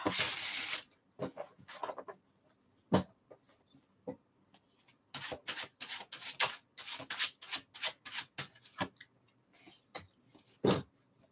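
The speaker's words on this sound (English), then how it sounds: "All right, one more shuffle." Tarot cards being shuffled by hand: quick papery riffles and rubs in short irregular bursts with pauses between, quiet and close, no talking.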